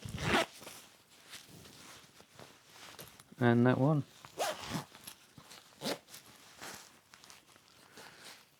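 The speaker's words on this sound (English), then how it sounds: "Do that zipper up out of the way a minute." A zipper on a lightweight Koala daypack is drawn closed, a quick rasping pull amid rustling fabric and handling, with someone talking over and around it.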